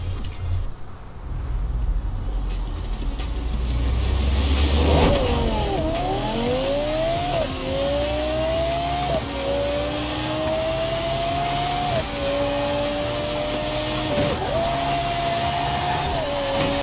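A Lexus LFA engine revs in Forza Horizon 4, its loud, high-pitched wail rising and falling through repeated upshifts in a continuous run with no talking.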